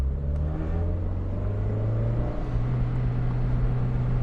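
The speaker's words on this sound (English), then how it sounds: "Awesome sound from the exhaust." The exhaust of a 2003 Toyota MR2 Spyder TRD with a 5-speed gearbox pulls hard in second gear on a back road, a loud close engine drone climbing steadily in pitch.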